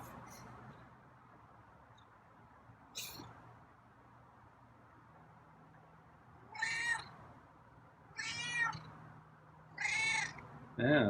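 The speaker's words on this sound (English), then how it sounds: "it's a purry meow" A feral cat gives several short purry meows at close range, coming in separate bursts over a low steady background hum, with a soft knock early on.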